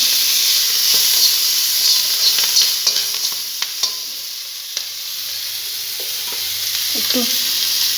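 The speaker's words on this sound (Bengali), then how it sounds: "লঙ্কা আদা রসুন ওই টমেটো এগুলো একটু হালকা ভেজে নিই" Chili, ginger, garlic and tomato frying lightly in oil with black cumin seeds for a fish curry, giving a steady close sizzle and hiss with scattered stirring clicks and scrapes, no talking.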